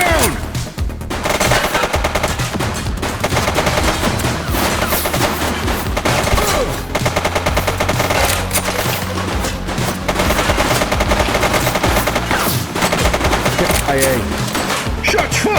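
Loud, sustained automatic gunfire in the police video game The Precinct: dense, rapid bursts blending into a continuous barrage, with shouting voices partly buried in the din.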